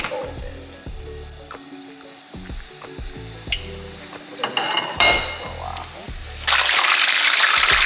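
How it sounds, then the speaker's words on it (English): Fish fillet deep frying in peanut oil, a bubbling sizzle broken by repeated utensil clatters and knocks, swelling into a loud, dense frying roar in the last seconds. "we're gonna fry this until it gets nice and golden"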